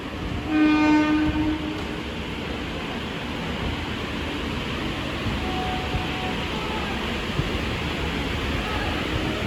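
An Amrit Bharat Express train departing on its inaugural run from Santragachi sounds a long horn at the start, over steady loud rumbling of wagons and rail noise that continues throughout, with faint voices in the background.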